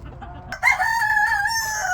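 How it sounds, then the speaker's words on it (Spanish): A rooster crows loudly and up close in one long, sustained call while being lifted out of its cage in a backyard coop on a Sunday morning after a storm. "Ahorita vamos a sacar el gallo de aquí."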